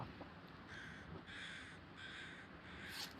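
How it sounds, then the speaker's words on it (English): Crows caw in the survival video game The Long Dark, a series of four or five harsh, regularly spaced calls, fairly faint and distant, over a steady wind-like background. "I love the crows."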